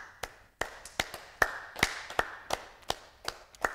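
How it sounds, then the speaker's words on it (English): Hands clap during a mother and baby yoga session, sounding as about a dozen sharp, close claps in a loose, steady rhythm with no talking over them. "And let's come back to some claps."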